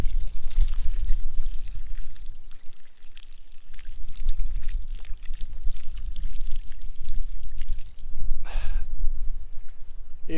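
Water rushes out of a farm dam being flushed of mud, a loud, continuous gushing pour that runs steadily throughout with no pauses.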